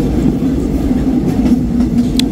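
A passenger train rolls out of Bangkok, heard from inside a carriage: a loud steady low rumble with a faint hum, brief rattles and a short high squeak near the end.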